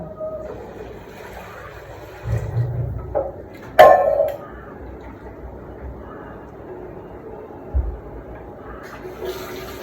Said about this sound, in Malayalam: ഒരു ഗ്ലാസ് അരിക്ക് രണ്ട് കപ്പ് വെള്ളം വയ്ക്കാം